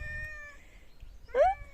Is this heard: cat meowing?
yes